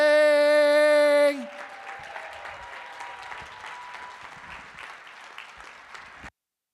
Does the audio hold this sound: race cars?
no